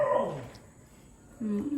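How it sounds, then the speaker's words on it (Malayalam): Dogs bark in two short bursts, a sharp yelping bark at the start and another after a brief pause, fairly close and loud, with a whimpering quality. "നായ്ക്കളെ കണ്ടോ, പോണുണ്ടോ"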